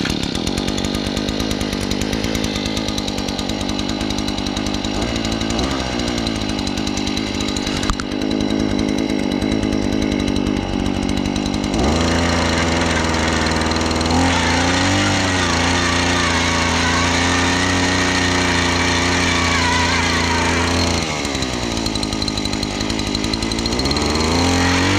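Predator gas-powered earth auger with a small engine running loud and buzzing, its pitch rising and falling as the bit drills into the ground, with no talk.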